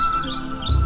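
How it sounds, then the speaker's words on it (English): Birds chirp in Queen Elizabeth National Park, heard from a vehicle on a game drive: a few quick high tweets repeat over a low steady hum, with a brief low thump near the end. "Birds and other animals."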